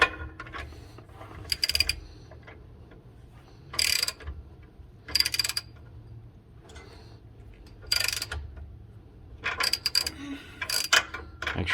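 Ratcheting wrench clicks in short bursts while a bolt is tightened during a Metalcloak differential armor install on a Jeep JT, close and fairly loud against a low background hum, with pauses between turns.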